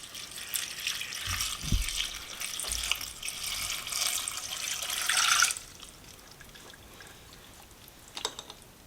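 Water pours in a steady stream into a cooking pot for several seconds, then stops, leaving faint drips and small clinks afterward.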